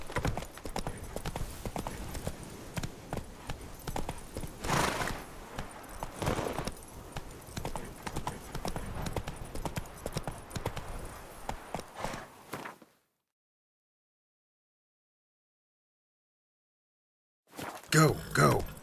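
Roach's hooves in The Witcher 3 clop in a steady walking-to-trotting rhythm, close and clear, with a few louder thuds, then cut to total silence before resuming briefly at the end.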